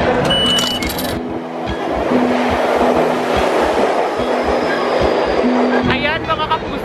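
A train rumbles and clatters at close range at night with a steady hum and occasional squeals, while a person talks over the noise.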